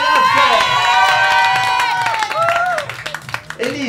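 Girls cheer and applaud for a bride-to-be named Elisa at a gathering in a convent, a lively burst of shouts and clapping mixed with excited voices that fades slightly toward the end.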